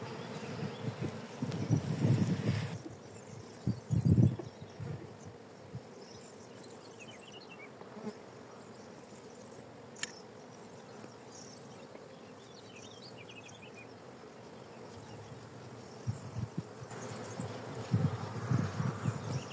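Honeybees hum and buzz steadily around an opened hive, a dense close swarm drone with louder bursts as bees pass near, with no talk.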